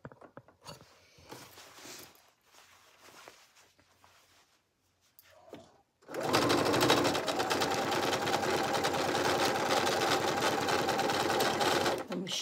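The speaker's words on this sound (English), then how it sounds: "Back stitching" A sewing machine runs steadily while back stitching a center seam on a Simplicity 9745 sewing project, loud and continuous for the last half after quieter handling noises.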